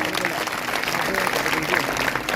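A church congregation at an Easter Sunday service bursts into applause: dense, loud clapping from many hands, steady across the short moment, with some voices mixed in.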